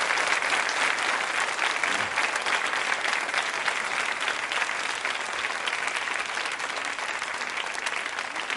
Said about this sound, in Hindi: तालियां जोरों से बजाइए उनके सम्मान में